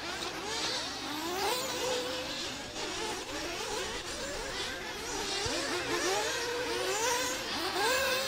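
Nitro-powered RC buggies in a 40+ class main event race around an outdoor track, their small high-revving engines buzzing and whining continuously, rising and falling in pitch as several cars accelerate through turns, with a commentator talking over the noise.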